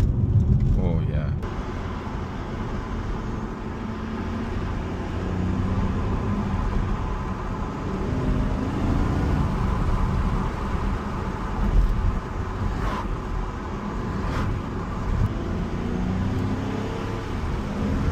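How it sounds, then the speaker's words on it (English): A Jaguar XKR X150 sports car cruises along a countryside road with a steady engine hum and tyre roar from inside the cabin. The sound stays even throughout, and people talk over it now and then. "this is what this car was made for, really. Just going down a countryside road."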